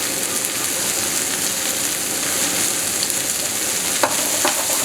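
Fried rice ingredients sizzle steadily in a pan, a dense continuous frying hiss with a faint clink of a utensil near the end, close and fairly loud.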